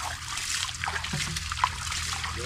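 Water trickles and splashes steadily into a filled container, close up, with faint background noise.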